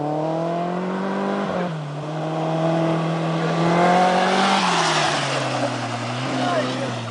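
A spider-style three-wheeled vehicle's engine drones steadily and loudly up close, then rises in pitch as it accelerates, with a strong buzzing whine throughout.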